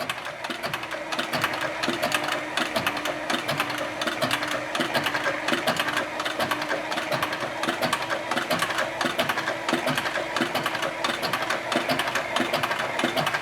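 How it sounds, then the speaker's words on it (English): A leather sewing machine, geared very low, stitches slowly at a steady mechanical pace, its needle and gears clattering in a dense, even rhythm throughout, close and fairly loud, with no talking. "these machines are so awesome because they are geared so low that you can make that needle absolutely crawl"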